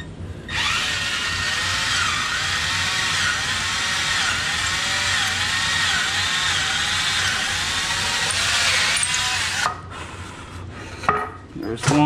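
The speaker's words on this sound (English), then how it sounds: "I'm going with a drill bit that's a little bit thinner probably than this bolt" A power drill whirs loudly and steadily for several seconds with shifting pitch as it bores holes for a kayak transom mount bracket, then cuts off, followed by a few clunks.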